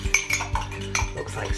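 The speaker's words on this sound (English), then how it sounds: "you want to mix all that together with a fork" Egg being whisked with a metal fork inside a mug, quick repeated clinks and scrapes of the tines against the ceramic in an uneven rhythm, close and clear, no voices.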